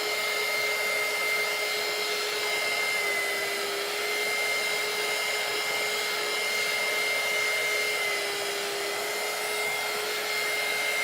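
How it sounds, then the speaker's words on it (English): A small handheld heat gun blows steadily for about eleven seconds while drying ink printed on a t-shirt, a constant airy whir with a fixed motor whine and no breaks or speech. "So I'll dry this again with my little heat gun."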